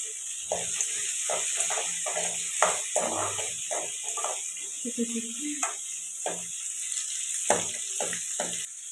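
Onions and dried red chillies are stirred and fried in a pan. A faint, high sizzle runs beneath a series of close spatula scrapes, clicks and knocks at an irregular pace.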